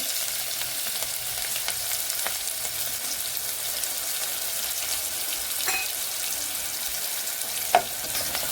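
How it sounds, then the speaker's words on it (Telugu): Onions fry in a pan as the base for rajma curry, with a steady, even sizzle throughout and a few small clicks of utensils. "ముందుగా ఉల్లిపాయలు వేసుకుందామండి"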